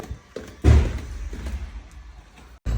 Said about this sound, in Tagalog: pakinggan niyo na untog pa nga siya sa pinto